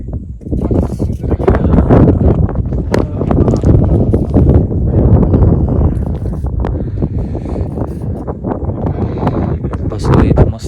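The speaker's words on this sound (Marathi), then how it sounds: "मस्त हवा सुटली" Strong wind at Ratangad, a hilltop fort in the mountains, gusting hard against the microphone in loud, rough, continuous blasts for ten seconds, with nothing else standing out.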